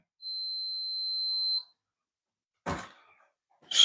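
A multimeter set to continuity gives one steady, clear electronic beep of about a second and a half while testing the mains cable of a Shark HZ500UKT vacuum cleaner during a teardown. A couple of brief handling knocks follow in a quiet room.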